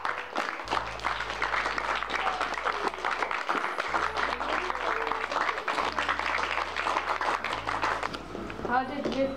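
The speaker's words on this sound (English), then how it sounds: "So let's put a round of applause together." An audience at a school autism awareness day event breaks into sustained applause, dense steady clapping from a large crowd filling the space throughout, with faint cheering near the end.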